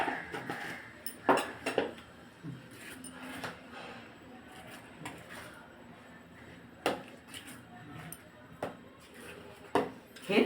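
A spoon clinks and scrapes against a pan while cardamom powder is stirred into khapli wheat rava porridge, with quiet intermittent knocks and soft background murmur between them.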